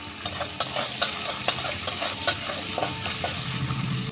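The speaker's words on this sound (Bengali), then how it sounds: "ছোলাটা খুব সুন্দর ভাজা হয়ে গেছে ছোলা ভাজার একটা গন্ধ বেরিয়ে গেছে" Chickpeas frying in a pan sizzle steadily while a utensil stirs them, with sharp scraping knocks about every half second, close and clear, no voices.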